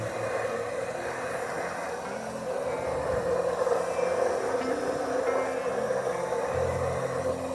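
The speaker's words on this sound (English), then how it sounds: "It's idling. Oh, she's idling, baby." An old Ford Thunderbird engine idles with a steady, low, even rumble. It sits close and runs continuously with no talk over it.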